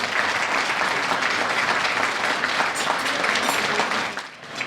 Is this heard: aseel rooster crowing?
no